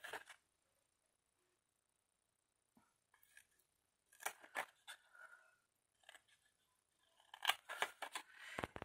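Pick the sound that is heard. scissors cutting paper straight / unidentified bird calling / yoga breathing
scissors cutting paper straight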